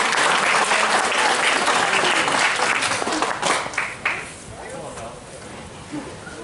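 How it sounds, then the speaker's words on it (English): Round of applause for the 4 Ash class at a school celebration, loud, dense clapping from many hands that runs strongly for about four seconds before tapering into quieter claps and room noise. "A round of applause there for the 4 Ash class."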